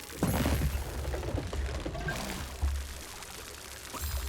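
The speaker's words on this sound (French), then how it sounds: "un petit coup d'arrosoir, ça fait plaisir à tout le monde" A watering can pours water in the video game Grow: Song of the Evertree, a soft splashing trickle of a few seconds with brief louder gushes, heard fairly close with no speech over it.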